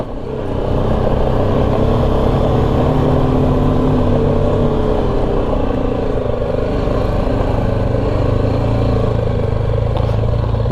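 A motorcycle on a mountain touring ride crosses a rough off-road patch, its engine droning loud and steady throughout while wind rushes and gear rattles over the bumpy ground.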